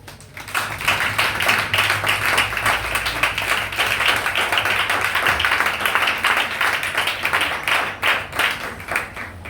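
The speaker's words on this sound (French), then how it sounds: "Acclamons-le bien." A church congregation applauds steadily and loudly for several seconds, a dense, continuous wash of clapping hands with faint voices mixed in.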